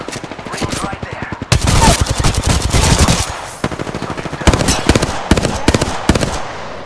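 Rapid automatic gunfire in the Apex Legends video game rattles loud and close in repeated bursts with short gaps between them, with a voice speaking over the shooting.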